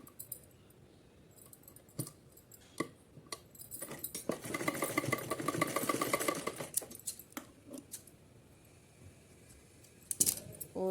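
A sewing machine runs a straight seam on cotton fabric, a fast rattling burst of stitching in the middle, framed by scattered clicks and small handling knocks, close and fairly quiet.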